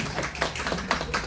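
Brief burst of audience applause at an association meeting as officers are introduced, a dense, steady patter of many hands clapping close by for just over a second.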